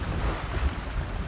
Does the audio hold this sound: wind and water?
yes